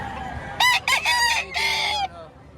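A nearby rooster in Batangas, Philippines crows once, a loud drawn-out call broken into several bursts, against faint background noise.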